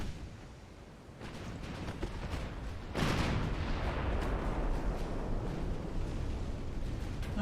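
Naval gunfire from battleships in a dreadnought-era naval battle game: a steady, dense roar of distant cannon booms, then a louder heavy salvo that keeps rumbling on, with no voices.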